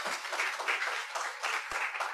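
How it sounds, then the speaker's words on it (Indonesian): Congregation clapping during a church sermon, a short burst of moderately loud, uneven applause filling the room, with faint voices mixed in. "boleh tepuk tangan bagi Tuhan"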